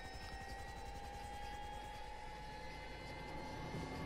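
Helicopter in GTA Online, a steady loud rotor chop with a whining turbine tone running throughout, continuous and close with no pauses.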